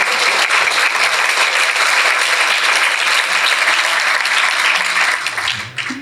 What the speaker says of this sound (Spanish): Aplaudid si queréis